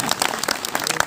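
Applause from an audience at a devotional katha recital on the Phulwari and Dhanush Bhang episode, a dense patter of many hands clapping steadily and fairly close throughout the short burst.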